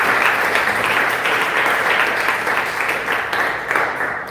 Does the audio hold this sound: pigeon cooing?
no